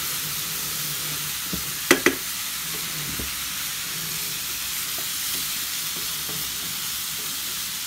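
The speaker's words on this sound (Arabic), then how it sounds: "طبعا البصل بتاعي تقول هو تحت زي ما انتم شايفين كده، وبيحمر كمان مع ايه، مع اللحمه اهو" Onion and meat fry in a pot with a steady soft sizzle, punctuated by a couple of sharp utensil clicks early on, close and alone.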